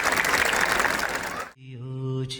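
An audience at a school annual function claps loudly and densely for about a second and a half, then the applause cuts off and sustained tonal music begins.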